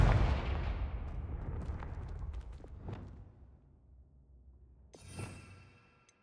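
In the Hogwarts Legacy video game, the Confringo blasting spell goes off with a booming explosion that decays over a few seconds, and a second, sharper blast-like pop follows near the end.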